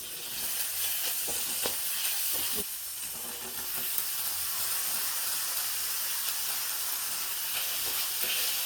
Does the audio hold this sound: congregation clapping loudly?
no